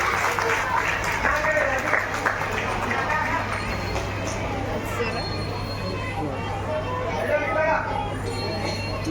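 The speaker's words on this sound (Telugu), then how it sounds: "చప్పట్లు కొట్టిన అందరూ." An audience claps at a music and dance arts event, a continuous wash of hand claps over a low steady hum with crowd chatter mixed in.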